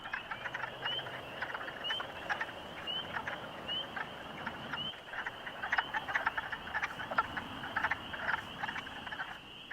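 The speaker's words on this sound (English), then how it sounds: "But I can hear tons of wood frogs singing too." A dense chorus of wood frogs and spring peepers calls continuously outdoors in spring, with overlapping croaks and high repeated peeps forming a steady, moderately distant din.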